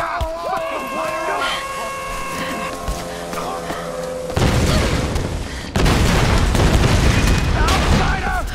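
Gunfire and booming explosions erupt in the Tomb Raider (2013) video game, loud bursts crashing in alongside shouted voices, the shooting growing denser and louder in the second half.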